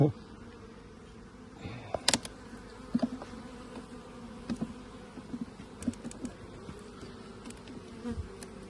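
Soft honeybee buzzing from a traditional folk hive hums steadily, with scattered small clicks and taps rising above the low drone.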